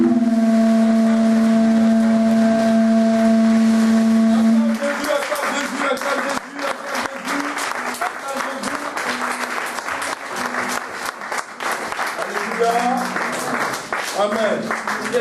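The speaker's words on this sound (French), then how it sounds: "Est-ce qu'une personne peut acclamer le Seigneur Jésus?" Church congregation at a worship service in dense, sustained applause with cheering voices, loud and continuous for about ten seconds after a sustained keyboard tone.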